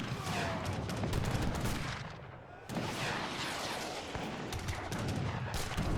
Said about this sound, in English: The rockets are popping off though.